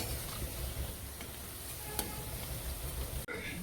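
Khoa gulab jamun frying in oil in a pan while being stirred, a steady close sizzle with occasional soft scraping and a sharp click near the end.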